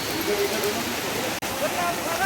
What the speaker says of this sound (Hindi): तो ये देखिए ये खूबसूरत झरना।